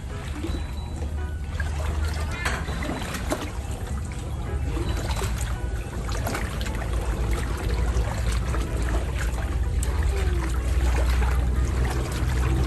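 Floodwater being waded through during the 2022 flooding in Thailand, with continuous sloshing and trickling water close by, steady and fairly loud for the whole stretch, with no talking.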